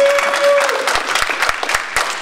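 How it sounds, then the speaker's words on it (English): Convention audience at the Anthrocon 2011 stage show breaking into steady applause, a dense wash of clapping with a few sharp individual claps standing out, fairly close and loud. "please give me a round of applause for your parents"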